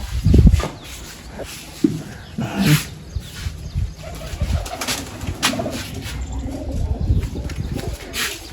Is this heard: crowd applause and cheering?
no